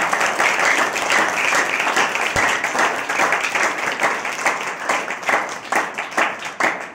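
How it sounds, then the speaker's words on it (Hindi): A church congregation claps together during a Sunday service, a loud and close burst of strong, rhythmic beats that keeps a steady pulse for several seconds. "आज एक जिंदा ताली यीशु मसीह के लिए बजाइए"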